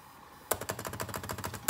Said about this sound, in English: Try holding, double clicking,